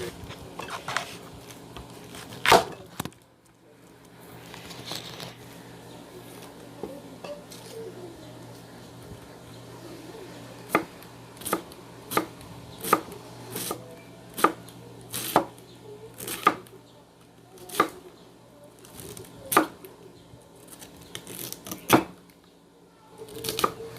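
Cabbage is cut with a knife on a board in a kitchen, sharp chopping knocks landing one by one with irregular spacing, quiet between strikes, a few early hits then a steadier run of blows.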